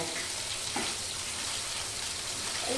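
Chital fish dumplings frying lightly in oil, a continuous even sizzle heard up close with no talking.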